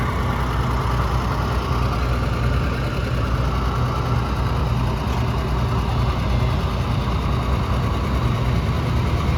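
Farmall and Ford tractors roll past at an evening tractor-pull gathering, their engines a steady, loud low rumble that holds evenly throughout with no voices on top.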